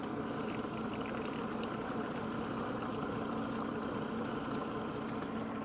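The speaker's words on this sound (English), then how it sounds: "Nothing but soap pouring through this outboard right now." Soapy water mixed with vinegar and degreaser pouring and streaming through an outboard motor during a flush, a steady rushing, gurgling flow that continues evenly with no talk.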